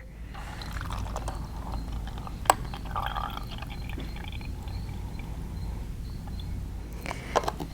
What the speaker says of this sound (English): So we are going to strain because we want to use the water.